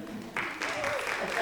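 Applause breaks out at an arts and special-education symposium round table, a dense patter of many hands that swells suddenly and holds steady at moderate loudness with a faint murmur of voices beneath.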